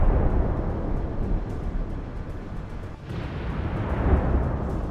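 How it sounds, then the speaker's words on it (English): A mine explosion under Russian armoured personnel carriers: a deep, rumbling blast fills the whole stretch, a heavy low roar that swells, dips briefly, then surges again. "we see an explosion of incredible power"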